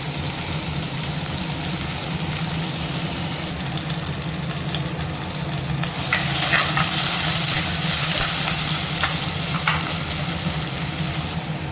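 Tomatoes sauté in a pan with a continuous close sizzle and frying hiss that swells partway through, with light stirring clicks, no talk.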